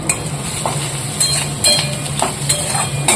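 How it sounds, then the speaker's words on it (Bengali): Fried onions sizzle in a pan as chili and turmeric go in, a steady hiss broken by repeated scraping and stirring strokes of a utensil against the pan. "এটা পেঁয়াজটা ভাজা হয়ে গেছে এবার দিয়ে দেবো লঙ্কা আর হলুদ"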